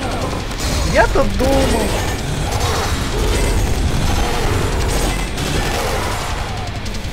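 Bursts of heavy gunfire and mechanical clatter in the video game Valfaris, dense and loud, with someone briefly speaking near the start.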